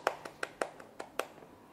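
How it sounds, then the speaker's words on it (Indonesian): A small group gives brief, sparse applause: about half a dozen sharp, separate hand claps at an uneven pace, fairly close, with no voices over them. "Tepuk tangan dong."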